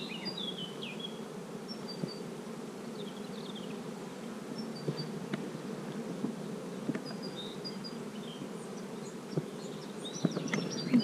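Honeybees buzz at a hive as foragers return carrying pollen. The humming drone is steady and close, with occasional louder passes of single bees and no talking.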